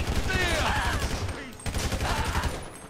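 Gunfire from an AP pistol and other weapons in GTA 5 Online, a video game: rapid bursts of shots in two dense clusters separated by a brief lull, loud and close, with some game sound mixed in.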